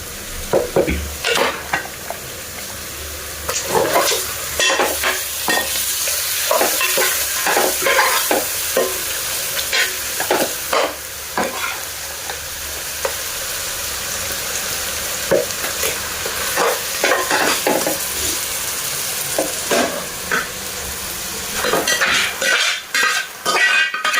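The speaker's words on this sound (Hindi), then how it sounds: "add in the chicken" Chicken for a spicy village-style curry sizzles steadily in a pan while a utensil stirs it, scraping and clinking against the metal in frequent bursts, loud and close with no talking.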